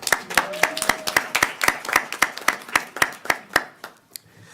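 A round of applause at a school board meeting: a small group claps in a brisk, fairly even rhythm of sharp, close hand claps that thin out and stop near the end.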